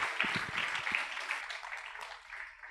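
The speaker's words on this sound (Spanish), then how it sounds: "Denle un aplauso al Señor Jesucristo," Church congregation clapping and applauding during a sermon, a scattered burst of claps at the start fading into a softer ongoing applause, moderately distant.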